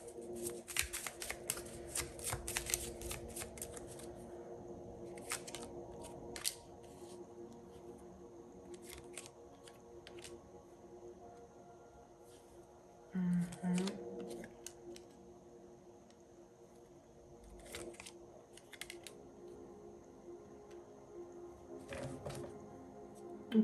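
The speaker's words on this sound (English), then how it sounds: "Let me give it a good shuffle." A deck of tarot cards is shuffled by hand in a quiet room, making soft riffling and rapid flicking bursts that come and go in a few separate rounds, close and fairly gentle.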